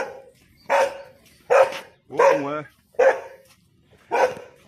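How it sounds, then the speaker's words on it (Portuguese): Dogs in Santarém bark in five loud, separate bursts spaced about a second apart, one a longer yelping howl. A person briefly speaks between the barks. "aqui em Santarém tem uns cachorros aqui"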